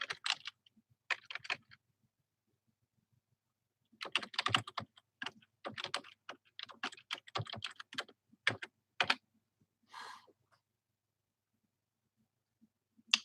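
Someone types on a computer keyboard in quick bursts of close, crisp key clicks, with brief pauses between runs and no talk.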